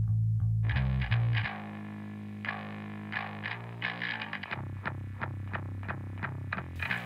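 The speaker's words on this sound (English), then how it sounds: "that distorted bass, why do you have that in there?" Distorted bass guitar layered in a rock mix, gritty sustained low notes under a busy band with picked higher parts and chorus-like shimmer, continuous and fairly full with no voices.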